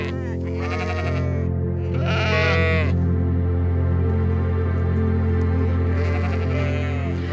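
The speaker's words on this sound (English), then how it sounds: "So look at all these little guys. They look like sheep." Sheep in the Pyrenees mountains bleat loudly and close by, several long wavering calls overlapping one another, with a steady low hum running underneath the whole time.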